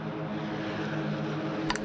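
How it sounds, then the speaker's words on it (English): World War II aircraft flying over the English Channel during the Battle of Britain, a steady droning engine rumble that holds throughout, loud and continuous with no voices. "30 enemy aircraft over the channel, flying due west."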